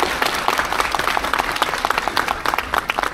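A crowd applauds at a film meet and greet celebrating three million viewers, a dense, energetic burst of clapping with some crowd noise mixed in, loud and continuous throughout.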